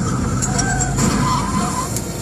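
A car skids with a screech of tires in a short radio-ad sound effect, a continuous rush of road noise and squeal lasting a couple of seconds, with no voices over it.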